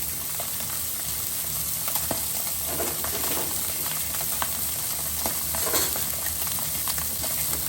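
Fish laid skin side down in a hot pan for Mexican fish tacos, frying with a steady, bright sizzle and crackle throughout, with a few soft spatters and pan clicks and no talking.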